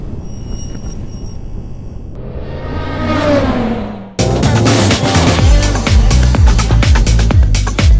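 A Corvette C7 V8 cranks with a rising whine, catches with a sharp loud bark, then settles into a deep, lumpy, rumbling idle close by.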